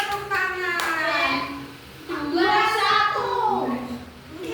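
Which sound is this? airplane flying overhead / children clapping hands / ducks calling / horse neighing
children clapping hands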